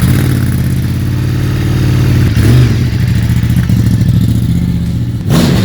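A Ford Mustang GT350 engine roars loudly and continuously, holding a deep steady rumble with a couple of sharper blips as it revs, close up and alone.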